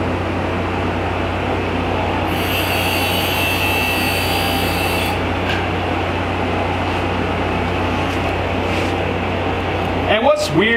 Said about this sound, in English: I gotta sharpen the tungsten again.